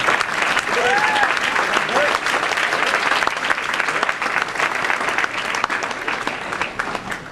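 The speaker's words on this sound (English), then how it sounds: "you deserve a big round of applause." A large banquet crowd claps for band boosters, steady dense applause filling the room throughout at strong volume, with faint voices mixed in.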